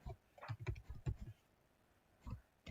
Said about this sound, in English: if I start typing, which I'll start typing actually